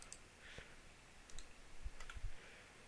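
Soft, sparse clicking of a computer keyboard as a directory path is typed, a few quiet keystrokes scattered over faint background hiss.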